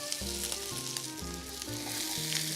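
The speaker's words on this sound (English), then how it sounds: "Put the onions in there." Onions sizzling in butter in a pan over medium heat, a continuous close hiss with a low rhythmic hum beneath, no talking.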